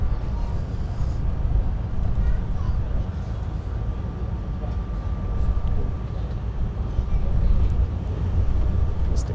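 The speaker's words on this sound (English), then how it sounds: "Just a GO train going by." A GO train passes alongside with a steady rumble and rattle of rail cars, heard from inside another moving train, the noise swelling slightly toward the end.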